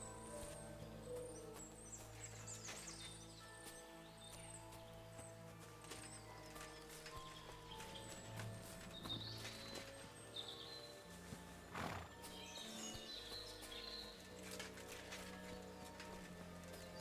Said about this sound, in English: A horse? What's it doing here in the woods?